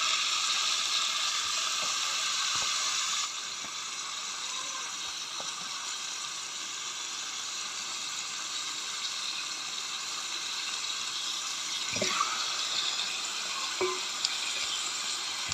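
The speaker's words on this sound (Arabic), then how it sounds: "قبل ما اسلق الفراخ هديها بس سلقه كده بسيطه" Chicken being parboiled in a pot of water gives a soft, steady bubbling hiss, with a few faint clinks and knocks scattered throughout and no voices.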